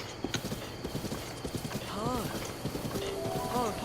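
A horse in Zelda Breath of the Wild clip-clops at a quick gallop, then lets out whinnying neighs, close and fairly clear over a low background.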